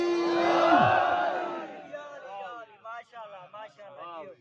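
A religious gathering raises the Haidari slogan, one long drawn-out shouted cry sweeping down in pitch, then breaking into rapid spoken and chanted phrases from the speaker.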